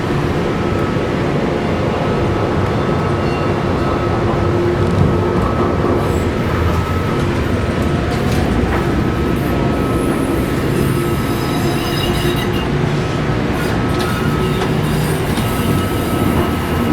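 A Denver light rail E Line train runs toward Union Station, with a loud, steady rumble of wheels on rail, faint squeals and clicks, and a few high tones, heard close from onboard.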